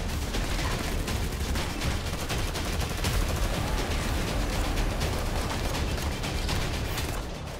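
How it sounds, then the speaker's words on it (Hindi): Howitzer artillery fire in Kupiansk during the Russia-Ukraine war comes as a dense, continuous crackle of overlapping blasts that stays loud and rapid throughout. "यहाँ रूस ने यूक्रेनी ठिकानों को निशाना बनाया और होवित्ज़र से ताबड़तोड़ हमले किए"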